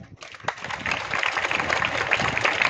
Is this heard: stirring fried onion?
no